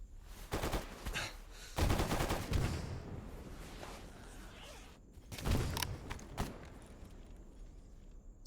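Gunfire in the shooter game Stalker GAMMA: several rapid automatic bursts at close range, separated by short quiet gaps, with a faint steady background tone.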